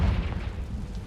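Confringo blasting spell going off in Hogwarts Legacy: a heavy, booming low-end explosion right at the start that rumbles on and fades across about a second, loud and close with no talk over it.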